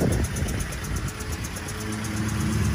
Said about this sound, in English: I got it cranked up and running. The little flatheads running about as smooth.